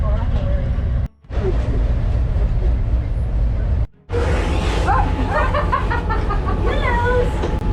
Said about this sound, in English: We're in the balcony of the train.